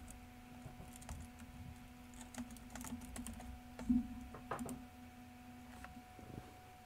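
Computer keyboard typing in steady, light clicks and clacks at close range, with a few louder keystroke bursts near the middle, over a constant low electrical hum.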